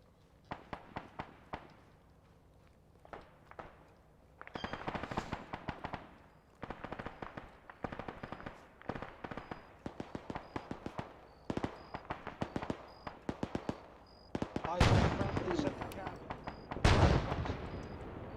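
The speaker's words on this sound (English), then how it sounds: "Stay clear, that's mortar." Mortar blasts and gunfire in a military video game campaign: scattered sharp shots and bursts, with heavier explosive booms near the end and quieter gaps between volleys.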